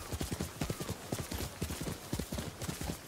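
Horse hooves clip-clop steadily in Ghost of Tsushima, a brisk, even rhythm of close, distinct hoofbeats over a soft ambient bed with no talking.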